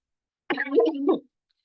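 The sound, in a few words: cough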